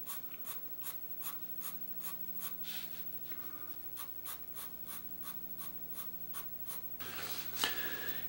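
A pencil shades a scalp line on paper in quick, even back-and-forth strokes, about three per second, close and clear, ending in a rougher scratch of graphite.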